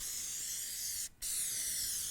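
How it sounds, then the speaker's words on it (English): Cooking spray hisses from a can onto cake pans in two bursts, a loud, close, steady spray briefly broken by a short pause before resuming. "I'm going to spray it with my cooking spray"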